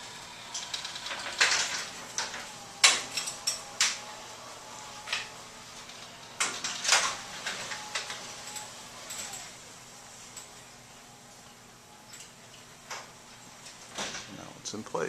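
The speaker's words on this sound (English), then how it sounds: "Screen door going down." A motorized garage screen door lowers along its track, giving scattered clicks and rattles over a steady mechanical hum for about fifteen seconds, with a few sharper knocks early on.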